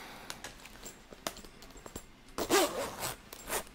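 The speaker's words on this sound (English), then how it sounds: "Let me zip up my jacket a little bit." A jacket zipper is pulled up in a quiet room, with a few faint rubs and then a short, raspy zip that is close and clear near the end.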